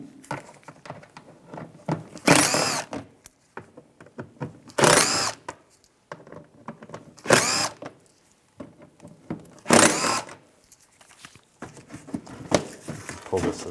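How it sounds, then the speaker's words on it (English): Screws are backed out with a T20 socket while replacing the headlights on a 2008-2017 Buick Enclave, giving repeated short bursts of ratcheting or power-driver whirring at roughly two-second intervals amid scattered clicks and handling noise. "Take these screws out, use a T20 socket."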